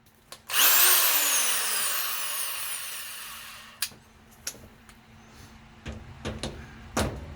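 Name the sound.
tightening screws on a washing machine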